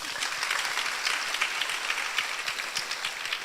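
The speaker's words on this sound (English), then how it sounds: "A round of applause to that." Steady applause from an audience at a Central University alumni conversation event, dense clapping sustained evenly throughout without strong peaks, fairly moderate in level.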